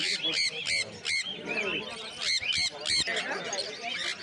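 Caged birds at the Uluberia bird market call in loud, repeated honking and squawking bursts, several voices overlapping throughout, with someone talking among them.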